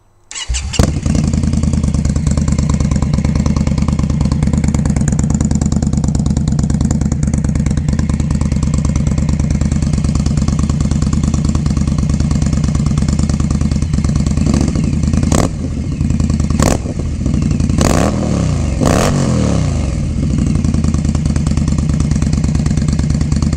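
An Indian Scout Bobber motorcycle fitted with slip-on exhausts fires up abruptly and settles into a loud, close, lumpy idle, then takes several sharp throttle blips late on before returning to idle, with no talk.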